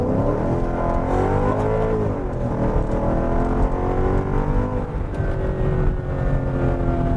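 A Mercedes E55 AMG accelerating at full throttle from inside the cabin, a loud continuous engine roar rising in pitch through the gears with smooth shifts, sustained and close.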